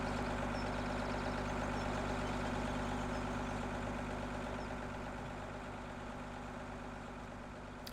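A John Deere 7530 tractor idles in the Farming Simulator 17 video game, giving a steady, continuous low engine hum that stays even throughout and fades slightly toward the end.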